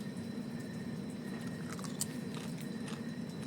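Crunchy food being bitten and chewed close up, with soft irregular crunches over a steady low room hum and no talking.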